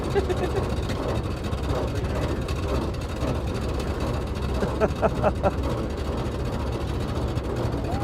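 The engine of a 1915 Dodge Brothers touring car rumbles steadily and close as the car comes to a stop, with people talking over the drone.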